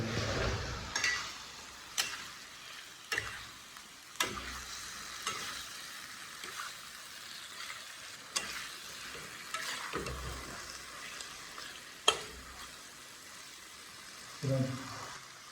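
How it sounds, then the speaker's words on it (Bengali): Fried chicken drumsticks sizzle in a pan, with spaced sharp knocks and scrapes of a spatula stirring them over a steady, fairly quiet hiss. "এবার এটার মধ্যে ভেজে রাখা ড্রামস্টিকগুলো দিয়ে দেবো"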